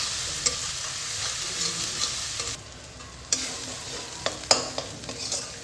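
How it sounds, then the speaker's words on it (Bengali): Ginger paste cooks with onion paste in a hot pan, a close, steady sizzle broken by repeated scraping stirs and clicks of a spoon against the pan, with no voices. "এটা ভালোভাবে পেঁয়াজের সঙ্গে কষিয়ে নেব যতক্ষণ না এর কাঁচা গন্ধ না যায়।"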